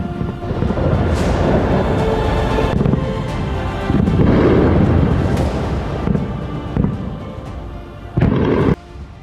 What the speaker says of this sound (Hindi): हमले के वक्त यहां जोरदार धमाका सुनाई दिया